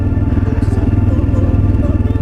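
A motorcycle engine runs steadily and loudly throughout, a continuous low rumbling drone with a pulsing rhythm.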